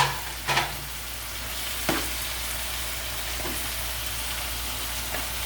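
Cubes of fried luncheon meat stirred in a pan, a steady soft sizzle with a few scraping knocks of the utensil, close and moderately quiet, no voices.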